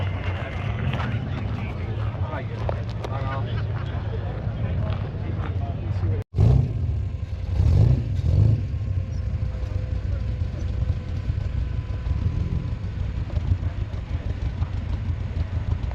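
Cars arrive late at a cars and coffee meet at Paxton House, their engines rumbling and revving in the background with a brief louder burst midway, while people talk over the steady outdoor noise.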